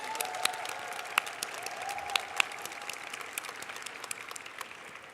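Scattered applause for student research teams at a school closing ceremony, a moderate crowd with some sharp nearby claps standing out above the steady patter, no speech over it.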